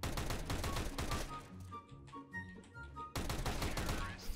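Rapid gunshots from the CS:GO video game burst in quick repeated volleys, loud and close, with a short calmer stretch of softer tones between the firing.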